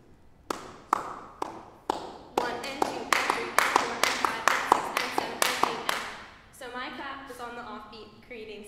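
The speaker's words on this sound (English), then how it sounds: "we will be clapping during our piece" Two people clapping a syncopated rhythm, one on the downbeats and one on the offbeats, sharp close claps building from sparse to dense, then giving way to a resonant tonal musical passage toward the end.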